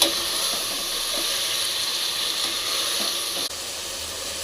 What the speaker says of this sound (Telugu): ఉల్లిగడ్డలు మునక్కాయలు స్వీట్ పొటాటో క్యారెట్ పచ్చిమిర్చి రెండు టమాటాలు కరివేపాకు వేసుకొని ఐదు నిమిషాలు ఇదంతా వేపుకోవాలి